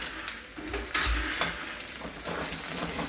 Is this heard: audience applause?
no